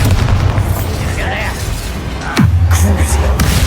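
Bombarda spell blast in the Hogwarts Legacy wizard game: one heavy boom with a falling sweep bursts out of ongoing battle noise, followed by a louder rumbling tail.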